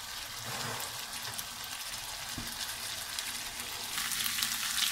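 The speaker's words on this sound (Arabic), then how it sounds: "هو بدا كيتقلى هادشي" Calamari frying in a pan with oil, salted butter, spices, garlic and lemon juice, giving a steady, gentle sizzle that swells slightly toward the end, with no voices.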